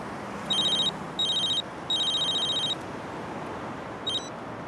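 An electronic phone ringtone trills in three short bursts followed by a brief fourth, over a steady background hiss.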